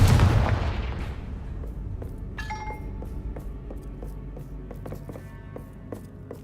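Confringo fire spell explosions in the Hogwarts Legacy video game on PS5: a heavy booming blast opens loudly, then its rumble decays. Sharper cracks and ringing tonal hits follow at intervals through a continuing low roar.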